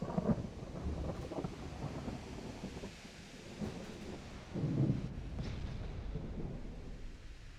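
A thunderstorm in the naval game Ultimate Admiral Dreadnoughts, with rolling thunder rumbles over steady rain noise and one stronger crack near the middle, fairly quiet and continuous.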